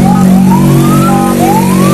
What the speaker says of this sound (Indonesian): Tadi ada ambulan, ini ada ambulan lagi.